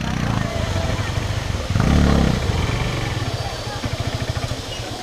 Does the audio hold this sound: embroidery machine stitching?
no